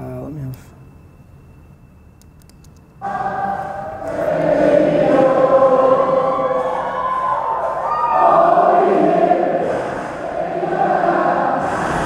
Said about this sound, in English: obviously here we have the crowd